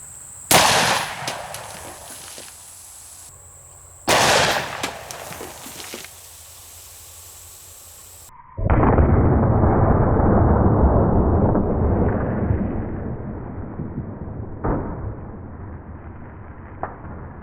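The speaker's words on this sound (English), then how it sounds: "just the sheer force of the bullet blew up all the cans except for 6 cans" A Desert Eagle .50 AE fires into rows of 12-ounce soda cans. Two loud, sharp shots ring out a few seconds apart, then a long, heavy rushing burst follows and slowly fades.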